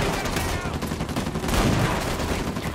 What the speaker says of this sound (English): Man, this shotgun is kinda garbage